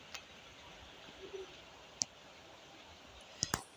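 A few sharp computer mouse clicks, one alone and then a quick double pair near the end, crisp and close against a faint room hiss.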